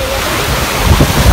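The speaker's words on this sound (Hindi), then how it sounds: "पानी की शोर से हमारी आवाज नहीं आ रही होगी, ठंडा हो रहा पानी, हवा की आवाज आ रही होगी।" Loud, rushing water roars continuously with gusting wind buffeting the microphone, a dense broadband wash of noise up close.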